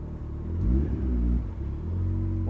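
Turbocharged Mazda MX-5 Miata with a 25 psi turbo and about 280 hp, its engine rumbling low and close, swelling in a short rev before settling back to a steady drone.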